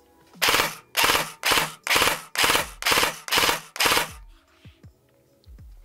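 A Grand Power R15 Freya airsoft pistol fires eight evenly spaced, sharp, loud rattling bursts in quick succession, followed by faint mechanical clicks.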